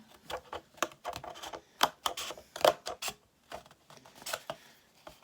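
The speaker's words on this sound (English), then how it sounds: "I'm going to use scissors, just gently, just quite slowly too." Scissors cutting slowly and gently through paper during a springtime craft project, producing a series of crisp irregular snips and crunches close up, without talking.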